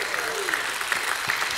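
Church congregation claps and calls out praise during a Sunday morning service, a dense burst of hand clapping with scattered voices mixed in, steady and fairly close throughout.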